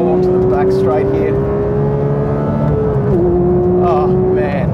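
Porsche 911 GT3 70 Years edition accelerating hard on a track, a loud sustained engine note climbing through the revs, heard from inside the car.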